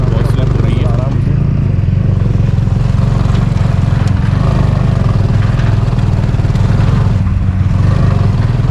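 A motorcycle rides a slippery mountain road on the Kailash Mansarovar route toward Lipulekh, its engine droning loud and constant up close amid rushing wind, with a rider's voice faintly mixed in.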